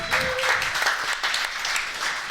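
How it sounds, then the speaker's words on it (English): Studio audience applause for a guest, Riley Pickett, on a live CFL talk show, a dense, continuous wash of clapping filling the room, loud and close throughout. "That's the biggest round of applause we've ever had for a guest"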